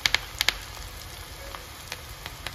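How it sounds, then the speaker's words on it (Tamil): Pakoda batter frying in hot oil in a home kitchen for a lunchbox recipe: a steady low sizzle with a few sharp crackling pops clustered early, then sparser spits, close and moderately quiet, with no talking. "இப்போ பக்கோடா போட ஆரம்பித்தாச்சு."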